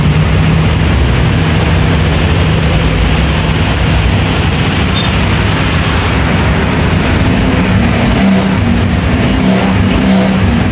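A Honda Click V3 scooter engine runs loud and close right after its throttle body has been cleaned, a steady, heavy motor drone held throughout with slight surges as the throttle is opened.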